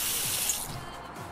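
Hot water runs from a tap into a cooking pot in the Cooking Simulator video game, a steady close-up hiss of pouring water that starts loud and eases slightly toward the end, with no talking.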